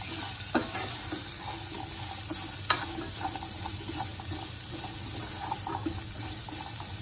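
Chopped carrots are stir-fried in a pan: an even, close sizzle under repeated light scraping and clacking strokes of the spoon, with no voices.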